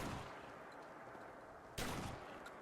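A single shotgun blast from a Heckler & Koch shotgun in the game Fallout, one loud sharp boom near the end with a short tail, preceded by a dull steady background rumble.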